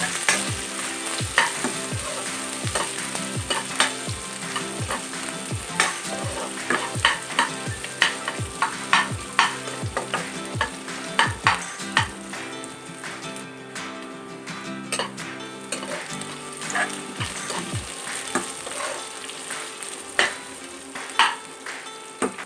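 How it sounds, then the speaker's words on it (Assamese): Sliced onions fry in a pan, a soft, constant sizzle broken by regular scraping taps as a spatula stirs them, close by, with no voices. "আমি পিয়াজখিনি ৰঙা হোৱালৈকে ভাজি থাকো"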